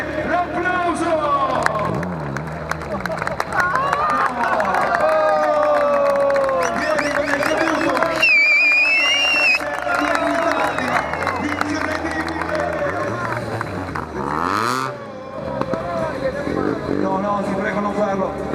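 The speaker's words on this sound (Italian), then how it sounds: "I vostri applausi senza una mano, no hands, senza mani." Crowd cheering and clapping at a motorcycle stunt show at the EICMA motorcycle exhibition, sustained under a loud announcer talking excitedly over a sound system.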